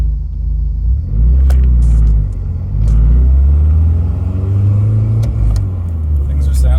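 A Nissan Silvia with a freshly installed engine, running at low boost with a loud, deep rumbling note that swells and eases as the throttle changes, heard close up beneath some talk.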